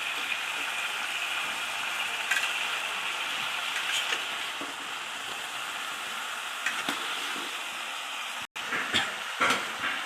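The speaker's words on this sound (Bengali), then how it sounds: "দিয়ে একটু এখন নাড়া দিতেছি" Fish and bottle gourd curry being stirred in a pan, a continuous close sizzle with scraping and clattering strokes at irregular intervals, no talk.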